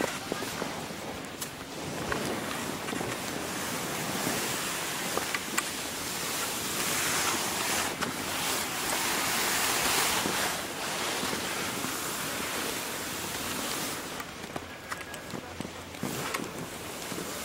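A mountain stream rushes steadily nearby, a broad hiss with no pauses and occasional faint clicks over it.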